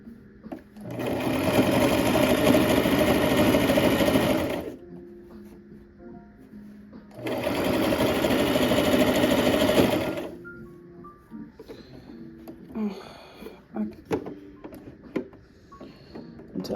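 A sewing machine stitches fringe onto blue ribbon in two steady, loud, close bursts of about four and three seconds each. Quieter handling clicks and rustles follow without talk.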